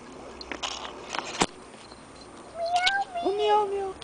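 A kitten gives a few short, bright meows close by, following some light rustling and taps, with a woman and child chatting softly around it.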